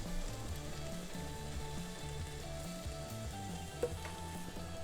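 Pancetta bacon sizzles in a pan with a steady, even crackle heard up close, and a single faint clink lands near the end.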